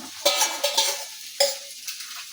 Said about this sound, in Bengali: এখন আমি এই যে কপিটা ভাইজা রাখছি